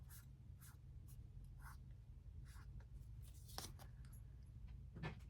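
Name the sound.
pen writing on paper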